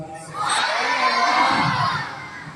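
A gathered crowd at a religious gathering answers aloud together, a broad swell of many voices chanting in unison that rises, holds for about two seconds, then fades.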